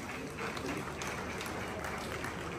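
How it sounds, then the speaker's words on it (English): A crowd applauding at a celebrity gathering, broad steady clapping with a busy, noisy background, loud and sustained with faint voices mixed in. "A round of applause for Jifa and Sweet Intents"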